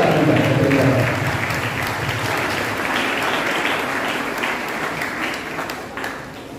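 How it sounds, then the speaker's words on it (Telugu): Church congregation at a Catholic Holy Mass applauding together, a steady sustained clapping that starts loud and tapers slightly over several seconds, with faint voices beneath. "గట్టిగా చప్పట్లు కొట్టి"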